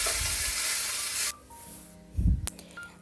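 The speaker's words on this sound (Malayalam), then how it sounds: "എണ്ണ ചൂടാക്കിയെടുത്ത് കടുകും കരിവേപ്പിലും ഇട്ട് കൊടുത്ത് കാണ്ടാന്ന് വറവിട്ടെടുക്കുന്നുണ്ട്" Mustard seeds and curry leaves hitting hot oil in a home kitchen give a loud sizzle that suddenly drops to a quiet hiss, followed by a brief clatter of a utensil.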